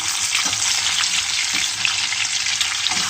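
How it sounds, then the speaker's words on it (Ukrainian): Potatoes frying with pork fat and black pepper sizzle steadily and loudly in a pan, with scattered scraping and clattering as they are stirred throughout. "Перемішуємо"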